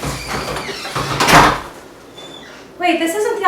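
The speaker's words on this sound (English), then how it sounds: "here comes the door" A door opening, a loud scraping slide that peaks in the first second and a half, with voices talking around it.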